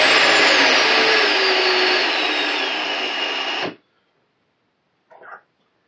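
Metabo BS 18 LTX BL cordless drill whirring loudly up close for a few seconds, its pitch shifting slightly, then cutting off abruptly, followed by a short faint burst.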